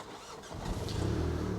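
Three-cylinder 1.5-litre turbo petrol engine of a Mini Cooper Countryman cranks and catches, settling into a steady, close, rumbling idle with no talk.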